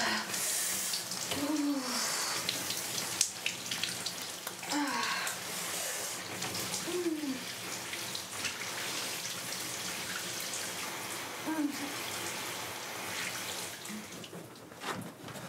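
Water runs steadily from a home shower as a constant hiss, with a few brief, faint voice-like sounds in the background.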